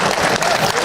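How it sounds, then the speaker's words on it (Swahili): Applause from a crowd at a Wajir High School alumni anniversary celebration in Wajir Town, a brief, dense burst of clapping heard up close. "Haya nipigieni makofi kidogo."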